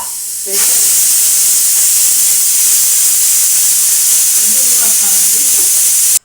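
A pressure cooker on a home kitchen stove lets off steam in a loud, continuous hiss. It starts suddenly, holds steady for several seconds, then cuts off, with a faint voice briefly underneath.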